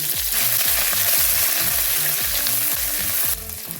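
Mustard, cumin and fenugreek seeds fry in hot oil with curry leaves, onion, ginger, garlic and green chili for a Kerala brinjal curry, making a loud, close, continuous crackling sizzle that drops slightly near the end.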